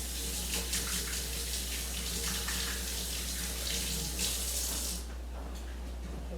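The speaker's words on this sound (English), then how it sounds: "Let me rinse off my hands." Water runs from a kitchen tap as hands are rinsed during gnocchi prep, a steady close splashing hiss that cuts off near the end, leaving quiet room tone.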